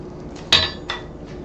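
A hammer strikes a steel rod fitted through a bell casting: one sharp metallic clank followed by a lighter second tap, close up in a quiet workshop.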